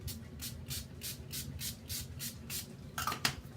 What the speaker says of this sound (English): Last thing that I usually do is I will take and spray. This one I've been using, the matte finish by Wet n Wild.